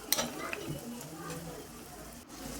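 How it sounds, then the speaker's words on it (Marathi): Masala with garam masala sizzles in oil in a pan while being stirred, a soft steady frying hiss with a few scraping clinks near the start. "चांगला सुगंध येतपर्यंत परतायचा. थोडासा गरम मसाला, अजून थोडंसं चांगलं परतून घ्यायचं."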